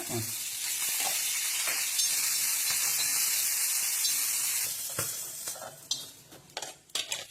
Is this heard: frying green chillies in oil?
yes